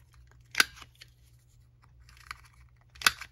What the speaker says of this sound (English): I am going to round corners, I guess.